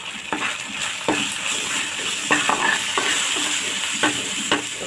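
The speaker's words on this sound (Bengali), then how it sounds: "মশলাটাকে ভালো করে কষিয়ে নেব" Turmeric and chilli powder spice masala stir-fried in a pan while cooking koi fish, a steady sizzle broken by repeated scraping strokes of a spoon or spatula against the pan, close and fairly loud.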